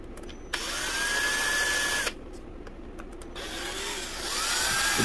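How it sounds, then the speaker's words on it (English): A power drill boring into hardened Milliput epoxy putty, the motor whining in two close bursts that start and stop sharply, with a brief pause between them and no speech. "It also drills very well"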